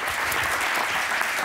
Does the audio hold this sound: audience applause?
yes